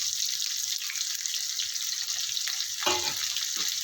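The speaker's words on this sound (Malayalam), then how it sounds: "ഒന്ന് കടുക് പൊട്ടിക്കുന്നത്" Mustard seeds crackle and spit in hot oil in a heating pan for a home-cooked lunch, a steady close sizzle with a sharper burst of popping near the end, with no talking.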